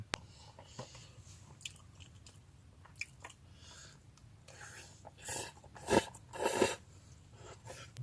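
Someone eats a breakfast meal outdoors during a solo mountain ridge hike, with soft, close chewing and biting noises that build into a few louder crunchy bursts near the end; no talking.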